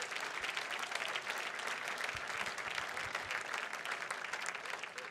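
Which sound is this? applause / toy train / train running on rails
applause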